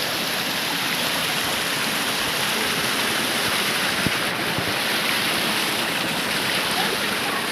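Steady rain falls in forested hills, a dense broadband hiss filling the whole stretch with no breaks, loud and close, with wind buffeting the microphone.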